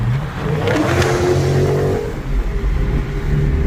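A car engine revs up loudly nearby, exhaust roaring and rising in pitch as it accelerates, then settling into a deep rumble.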